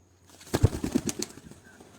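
A racing pigeon called F16, a champion bird in an all-Punjab one-day race, gives a brief flurry of close wing flaps and soft cooing notes after a short quiet start, with no one talking.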